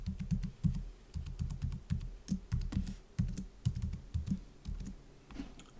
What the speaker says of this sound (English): I have to type in a password